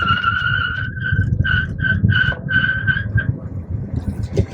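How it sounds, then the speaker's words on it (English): An electric Chevy Spark EV accelerates hard with its tires spinning, giving a pulsing, chirping high squeal over a steady low road rumble that fades out near the end. "it spun the tires almost all the way up to 40"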